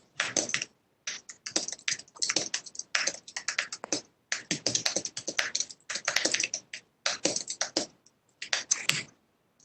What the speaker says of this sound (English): Who's doing all the typing?